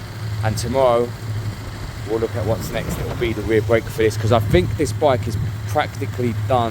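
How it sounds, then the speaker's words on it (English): A Lexmoto Michigan motorcycle engine idles steadily in a workshop, a low continuous hum beneath someone talking almost the whole time. "That's a running engine."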